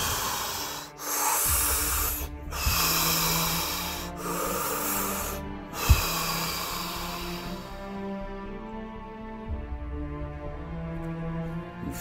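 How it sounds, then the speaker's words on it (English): Several loud, close deep breaths drawn in and pushed out in a steady rhythm during a charismatic prayer session, over a sustained low musical drone. "Now take 3 big deep breaths."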